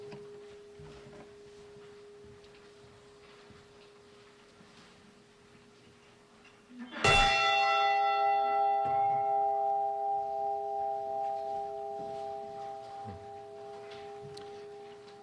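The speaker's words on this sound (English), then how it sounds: "And we toll the bell a 30th time for all those mariners lost on the Great Lakes." A single bell is struck once at a remembrance ceremony for the Edmund Fitzgerald and mariners lost on the Great Lakes, its clear tone ringing on and slowly fading over several seconds after a quiet lead-in.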